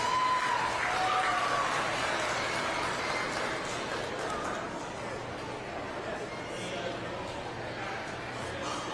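A crowd at a county youth fair applauds the children after a peewee swine showmanship class, clapping strongest at the start and thinning gradually, with murmuring chatter and voices mixed in beneath.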